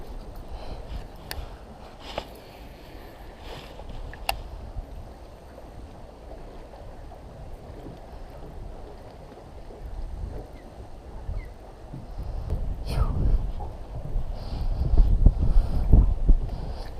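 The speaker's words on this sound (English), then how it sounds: "That wind's pretty brutal behind me, man. It's real rough." Strong wind buffeting the microphone on a bass fishing boat out on the water in rough conditions, a constant low rumble that swells and gusts louder toward the end, with faint water sounds and no talking.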